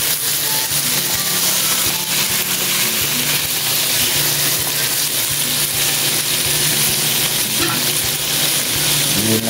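Tofu fries in a pan with a loud, steady sizzle, plus occasional stirring and scraping sounds.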